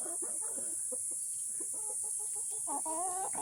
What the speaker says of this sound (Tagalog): Ito yung Rhode Island red natin na malaki talaga siya.